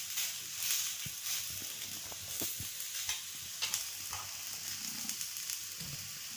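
Chopped onion frying in a little oil until reddish, with a soft continuous sizzle and faint intermittent stirring scrapes, close by and without speech.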